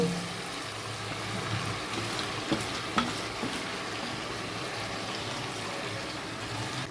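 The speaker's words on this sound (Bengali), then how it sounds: "মাংসগুলো হালকা ভাজা হয়ে গেছে এবার আমি মশলাটা দিয়ে কষে নেব" Chicken pieces for Kolkata-style chicken biryani sizzle steadily in a pan as they are stirred and sautéed with spices, with a few soft clinks of utensils and no talking.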